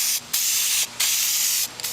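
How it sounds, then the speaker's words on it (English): A spray paint can hisses onto a steel wheel rim during refinishing, three close, loud bursts separated by brief pauses, with no talking. "Now you want to do the same thing again, just spray around."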